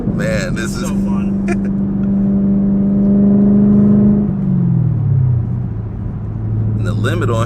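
A Chevrolet ZL1 Camaro engine drones at steady revs while driving, then the pitch drops as it eases off, loud and close, with bursts of talk at the start and end.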